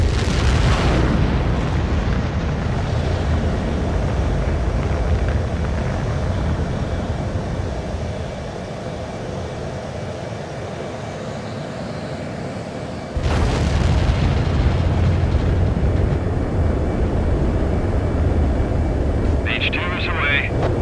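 A jet fighter's engines roar at full power for takeoff in the video game Ace Combat 7, loud and sustained, with a second surge of thrust partway through. Radio voices talk over the noise.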